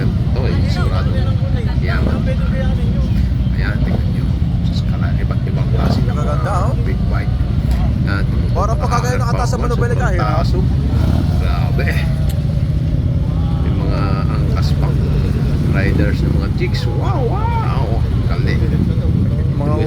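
Harley-Davidson big bikes ride along on a road trip to a lake, their engines a constant loud rumble blended with wind, while people talk over the noise throughout.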